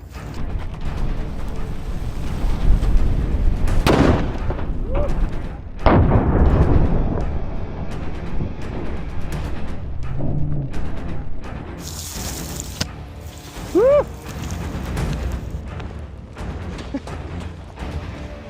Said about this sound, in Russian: Это осколочная граната. И ее я засовываю под танк.